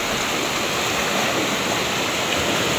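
Rushing water of a creek where people go to rinse laundry and bathe, a constant loud broadband roar with no breaks or voices, like a close cascade.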